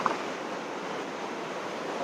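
Ocean waves at Tachanga Beach on Tinian Island make a steady, even wash of surf, a constant broadband rush with a little wind noise and no voices.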